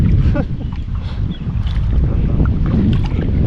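Strong wind roars and buffets the microphone continuously, with water sloshing faintly underneath, out on the Nemunas River in a kayak.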